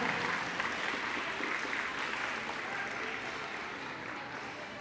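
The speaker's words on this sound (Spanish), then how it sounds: "Fuerte ese aplauso, mamitas, para ustedes, para los pequeños" An audience at a Mother's Day preschool festival claps steadily for the mothers, a dense wash of applause that fades slightly toward the end.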